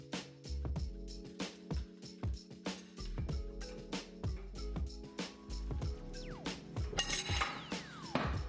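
A ratchet wrench tightens the axle nut on a Toyota Tacoma, with rapid clicking pawl ratchets in repeated bursts and occasional metallic clinks, close and fairly quiet.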